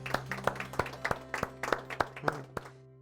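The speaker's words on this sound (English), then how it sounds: "let's give yourselves a round of applause" A small training group in a room claps steadily for a few seconds, individual hand claps distinct and fairly near, fading out at the end.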